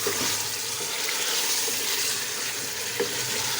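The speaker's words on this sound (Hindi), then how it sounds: "साथ में इसमें डाल दूंगी पानी।" Water is poured into a cooking pot on the stove, a steady close rushing and sizzling wash with no pauses.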